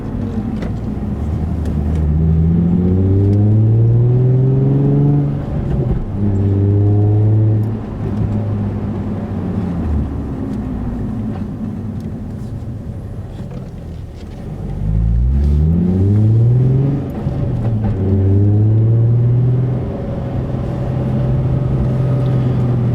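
Interior drone of a Nissan 350Z/370Z fitted with an Invidia Gemini exhaust, held in third gear around 2000 RPM: a steady, loud low exhaust rumble with rising and falling harmonic sweeps as the throttle varies.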